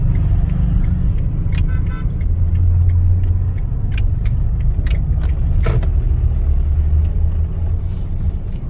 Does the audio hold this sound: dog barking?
no